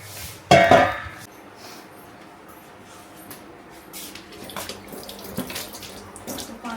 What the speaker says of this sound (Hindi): तो पानी नहीं आता इसमें प्रेशर में